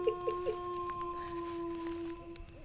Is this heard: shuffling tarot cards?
no